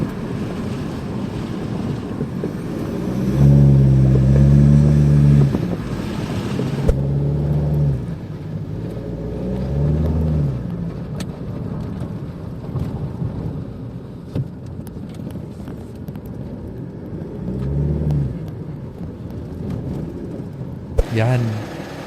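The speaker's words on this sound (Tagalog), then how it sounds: "Ayan, ang basin ng tunog ng exhaust natin." A deep, low exhaust rumble from a Mitsubishi Strada GLS turbo diesel pickup with a resonator exhaust swells and fades in a few surges, with wind buffeting the microphone and a gap of quieter idling between.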